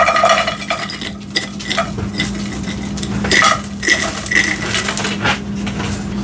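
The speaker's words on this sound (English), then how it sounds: "I'm just gonna go ahead and dump the contents of my jar into the skillet." Freeze-dried meal contents tipped from a glass mason jar into a skillet make clattering, rattling knocks and scrapes of pieces landing on metal, with a few sharper ringing clinks over a low steady hum.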